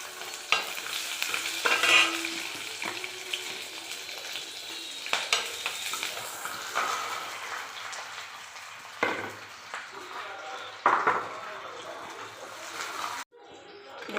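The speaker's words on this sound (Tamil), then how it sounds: "வெங்காயம், சின்ன வெங்காயம் கொஞ்சம், பெரிய வெங்காயம் பாதி வெங்காயம் எடுத்து வச்சுருக்கிற அதையும் போட்டு வதக்கிக்கலாம்" Onions, both small shallots and half a large onion, sizzle and fry in a pan for a tomato curry, with steady crackling and repeated stirring scrapes close up and no talk over it.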